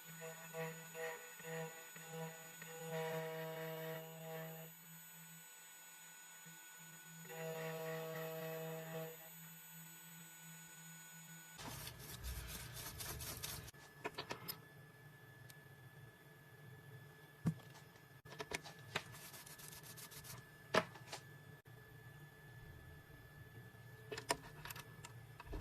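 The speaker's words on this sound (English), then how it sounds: "Click Cut and Continue and cut the key." A 2M2 Tank 2 Pro key machine cutting a VW HU162T key: a quiet whirring motor in bursts, then a long stretch of scraping and clicking as the cutter works the blade.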